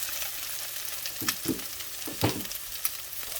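An egg frying in oil in a pan for improvised fried rice, a close steady sizzle with a few louder scraping stirs partway through.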